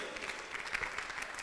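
Audience applause at a radio convention, a brief faint patch of steady clapping from a room of listeners, lasting just over a second.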